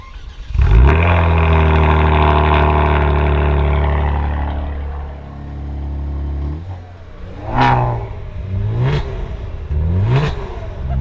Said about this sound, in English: if you want to hear what the West Coast Customs car sounds like, here you go